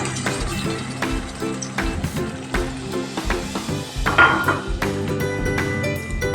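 A spoon clinks and scrapes in a pan while ground tomato pachadi is stirred and frying, giving irregular clatters over a soft sizzle.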